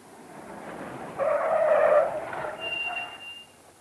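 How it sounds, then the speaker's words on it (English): A car skids to a halt on a road, tyres squealing loudly for about a second before the noise tails off; a faint high tone lingers afterward, with no talking. "Almost immediately, a car came to a halt."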